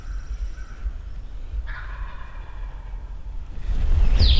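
A wild turkey in South Carolina gobbles, its rattling call carrying through open woods at moderate distance over low background rumble, with a louder, closer burst near the end.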